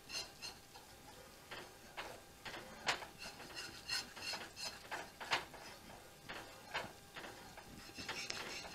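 A spoon stirs broccoli soup in a pot, giving a series of faint, irregular scraping and clinking strokes close by, roughly one or two per second, with no talking.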